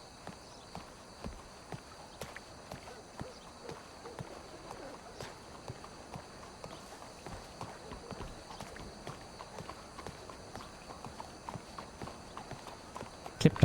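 Horse hooves clip-clop at a steady walking rhythm in Red Dead Redemption 2, faint, even hoofbeats continuing throughout with a louder knock at the very end.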